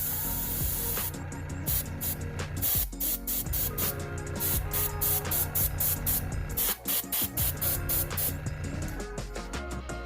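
An airbrush sprays gray paint onto a model horse, producing close, hissing bursts in a quick stop-start rhythm, each short spray separated by brief gaps.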